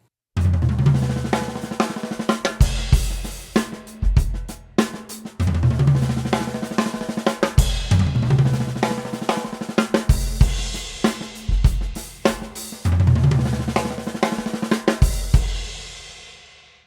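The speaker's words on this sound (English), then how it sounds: "So we're doing that roll back up the toms, and then we're just doing some snare drum vocab to finish the bar." Drum kit played alone and loud, a repeating pattern with a fill rolling back up the toms followed by snare drum figures, punctuated by cymbal crashes and brief pauses between phrases.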